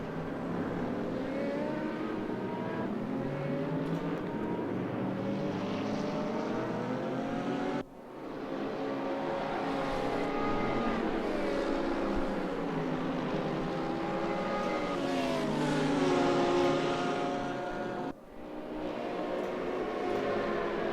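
Racing car engines in a video game at the Zhuhai circuit, a sustained loud roar with several cars overlapping, rising and falling pitch as they rev and shift, with two brief dips where the sound cuts.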